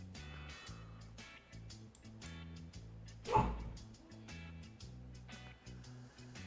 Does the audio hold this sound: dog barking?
yes